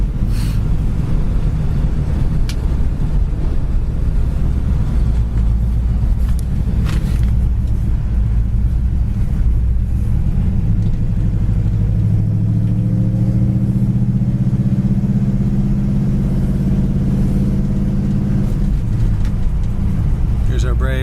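A red 1964 Pontiac GTO cruises steadily down a straight road, its engine giving a loud continuous rumble with a rising drone as it accelerates, while someone talks over it from inside the car.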